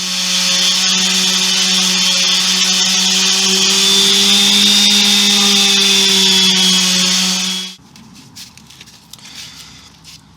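A power sander gives walnut coffee table legs a light sand, a loud, steady whine with a constant droning pitch running for several seconds, then cutting off abruptly into quiet room noise.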